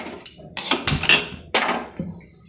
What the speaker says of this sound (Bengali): এইবার চাপাবো। এই যে কড়াই